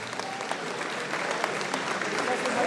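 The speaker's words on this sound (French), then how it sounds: "applaudissements" A crowd applauds the podium finishers of a 10 km road race outdoors. The clapping is dense and continuous, with the noisy ambience of a gathered crowd.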